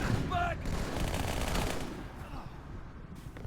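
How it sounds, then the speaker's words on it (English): Sniper rifle fire in the video game Halo 2, a few sharp bursts of shots early on, faint overall, followed by quieter game ambience. "Oops, just shot that guy."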